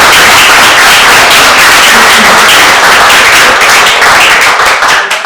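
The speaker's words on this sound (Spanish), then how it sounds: "Felicitarlos a ustedes, un aplauso para ustedes," At a school event, a large student audience gives very loud, close, sustained applause for the student moderators, a dense mass of clapping with no talking over it.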